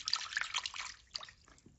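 Water trickles and splashes into a baking bowl being filled for a foot soak, bright and close, with a burst of pouring followed by a few smaller drips.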